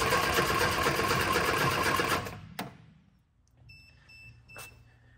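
An Innocenti S Spider engine cranks on its starter, powered by a jump pack, in a loud, steady grinding whir that cuts off after about two seconds. Faint clicks and a few soft tones follow in the quiet.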